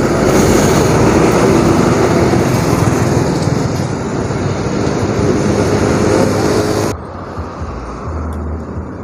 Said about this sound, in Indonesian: Sinar Jaya 19 RC diberangkatkan dari Terminal Dokosalam Selawi